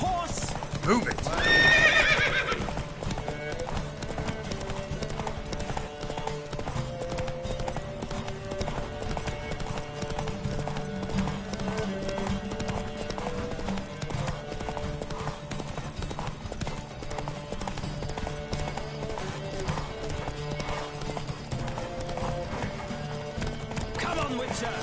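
Rapid hoofbeats of several galloping horses in a video game horse race pound steadily throughout, with an occasional whinny near the start and a continuous music-like backdrop beneath.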